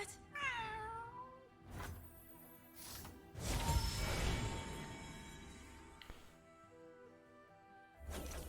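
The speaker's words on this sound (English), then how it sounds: "Cat?" A cat meows with a rising, wavering cry near the start, followed by clunks, a crash-like burst and softer game sounds, all fairly close with no talking.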